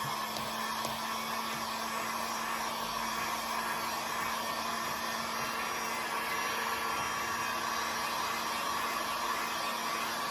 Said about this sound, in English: Now I'm going to give this a quick dry because I'm going to be throwing a coat of off-white paint over the top of this black.